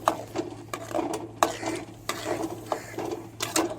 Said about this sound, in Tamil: கிண்டிக்கிட்டே இருக்கணுமாங்க